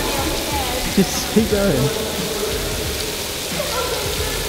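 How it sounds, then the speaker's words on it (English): Artificial indoor rain pouring in the Rain Room in Sharjah, a steady loud hiss of falling water on the floor throughout, with people talking over it at close range. "So as you walk forward, the sensors detect you and stop the rain."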